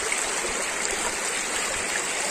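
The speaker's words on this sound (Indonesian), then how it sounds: "Airnya juga kemericik." A forest stream babbles and splashes steadily, a bright, even rush of water that fills the whole moment at close range with no speech.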